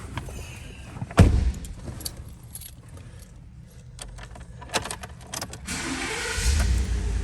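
A car with power seats and power-adjustable pedals is started and left to warm up, with keys jangling, window and door noises, and a low engine rumble growing at the end; no talking.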